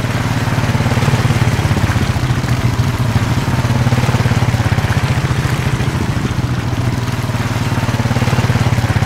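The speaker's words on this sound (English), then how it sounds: "I hear quads." Quad bike engines drone steadily at a distance, a rough, throbbing motor rumble that carries evenly throughout with no speech.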